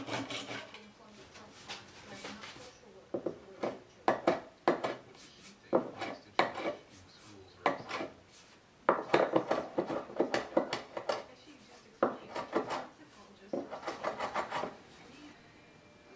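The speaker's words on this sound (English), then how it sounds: "So I'm going to undo these clamps now" Metal clamps on a wooden Moxon vise are loosened in a woodshop, giving a series of short scraping, rubbing and clicking bursts in an irregular rhythm, close and fairly quiet.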